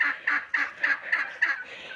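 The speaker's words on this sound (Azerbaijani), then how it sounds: "Bu da çolpalar, toyuqlar," Poultry in a village garden, a turkey gobbling close by in a fast rhythmic series of about seven bursts, loud and alone with no talk.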